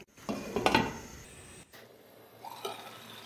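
Squeezed grated potato mixed in a cooking pot: a few close scraping, clattering strokes of a utensil against the metal pot, strongest at the start, then a brief lighter clink and quiet.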